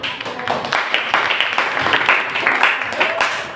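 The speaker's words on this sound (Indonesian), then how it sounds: "Ya, tepuk tangan dulu." A group at a teachers' coaching session at SMP Negeri 17 Surabaya claps for a presenting team, producing a close, brisk, continuous patter of hands that holds steady for a few seconds.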